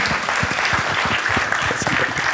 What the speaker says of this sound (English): Big round of applause to Dineshji as well.